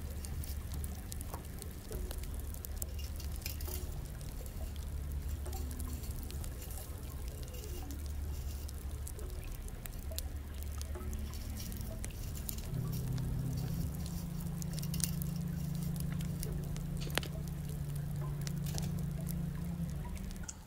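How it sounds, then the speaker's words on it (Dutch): About half a litre of water is poured into a pot for a ginger drink, a steady splashing pour that lasts throughout and rises to a fuller ringing tone as the pot fills, with no talk. "Voeg ongeveer een halve liter water toe."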